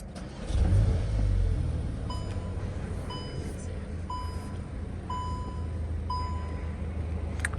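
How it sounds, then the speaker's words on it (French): A Golf 8R ABT engine starts with a loud low burst, then settles into a steady idle that swells again toward the end, with repeated electronic chimes sounding through the cabin. "On va démarrer la voiture."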